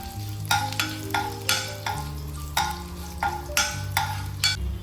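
Fenugreek seeds fry in hot oil in a pan for a Kerala-style spiced buttermilk curry: a close, crackling sizzle broken by regular rhythmic bursts of stirring, about two per second.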